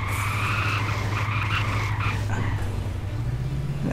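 A car in GTA San Andreas, running a Dragon Ball Z map mod, revs with a steady engine drone and squealing tires as it accelerates and skids, loud and continuous throughout.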